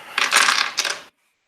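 Dice rattle and tumble across a table during a Call of Cthulhu tabletop game, a close, bright clatter of about a second in two bursts that cuts off abruptly into silence.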